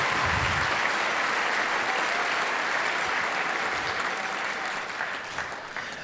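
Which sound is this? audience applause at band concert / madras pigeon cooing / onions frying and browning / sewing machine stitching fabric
audience applause at band concert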